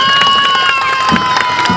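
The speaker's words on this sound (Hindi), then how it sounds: "तालियां" Cheering crowd at the inauguration of a newly designed town square chowk, a dense, loud, continuous roar of voices and applause with no pauses.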